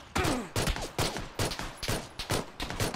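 Gunshots ring out during a PUBG match in a town, a steady string of about eight sharp reports spaced roughly half a second apart, moderately loud and unaccompanied by talk.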